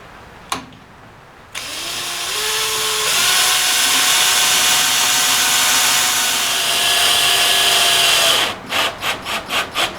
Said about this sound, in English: Pre-drill, and we'll go from there.